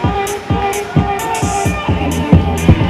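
A roller derby crowd chants "Goose" at a Boston hometeam bout, repeated rhythmic shouts rising every half second or so, loud and reverberant in an arena.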